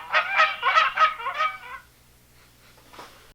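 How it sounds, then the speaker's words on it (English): A Canada goose honks loudly five or six times in a quick run, followed by a pause and one fainter honk. "Here is a Canadian goose sound."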